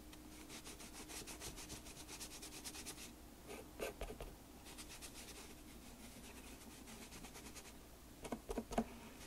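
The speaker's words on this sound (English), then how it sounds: "rub off some of that darker blue because I'm going to go lighter again" Pan pastel rubbed through a screen print stencil template onto card, making a soft, steady scratchy scrubbing in repeated strokes with short pauses and a few louder rubs near the end, no speech.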